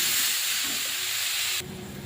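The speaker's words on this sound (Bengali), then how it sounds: "এবারে জল দিয়ে দেব।" Water poured into a hot pan of frying vegetables for a Bengali small-fish curry hisses loudly and steadily at close range, then drops abruptly to a quieter simmering hiss near the end, with no talk.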